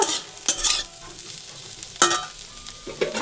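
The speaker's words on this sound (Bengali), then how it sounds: "আমার ফুলকপি আলু ভাজা হয়ে গেল" Cauliflower and potatoes fry in a pan, a low sizzle punctuated by a few loud scraping stirs and clatters of a utensil at close range, with no talking.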